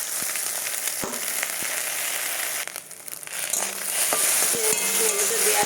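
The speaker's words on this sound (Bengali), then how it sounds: "ম্যাগিটা দেওয়ার পর একটু নাড়িয়ে চাড়িয়ে নেবো, হালকা একটু ভেজে নেবো ম্যাগিগুলো।" Maggi noodles and eggs frying in a pan, a steady sizzle with sharp clacks of a utensil stirring and scraping, close and moderately loud, without talk.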